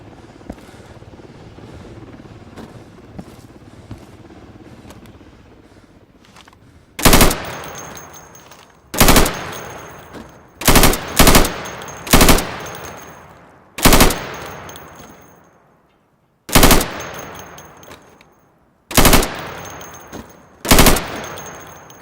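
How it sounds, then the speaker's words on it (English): Pistol sidearm fired at pop-up targets in the shooter game Insurgency, about ten loud, sharp single shots at uneven intervals, each with a short echoing decay, over a low ambient hum with no talking. "So you can shoot accurately over 20 feet with your sidearm."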